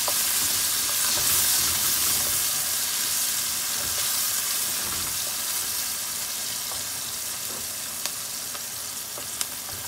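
Onion sizzles and crackles steadily in hot oil, a dense continuous frying hiss with occasional small pops.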